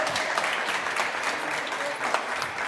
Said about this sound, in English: Please give a round of applause, our CEO.